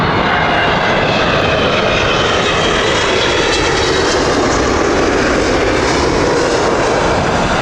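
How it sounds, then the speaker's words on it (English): A British Airways Airbus A380 departs from Heathrow Airport, its four engines producing a loud, continuous, even roar that dominates throughout without any talk. "A380 departing there,"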